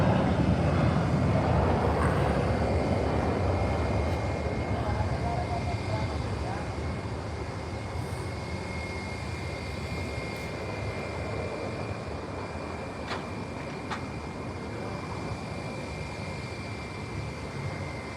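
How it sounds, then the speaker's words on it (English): JetBlue Airbus A320 in Spotlight livery landing on the south side at SJU airport after a flight from Fort Lauderdale, a broad jet roar loud at first and slowly easing, with a voice talking over it. "now landing here on the south side. This is JetBlue 553 coming in from Fort Lauderdale on an A320 in the Spotlight tail"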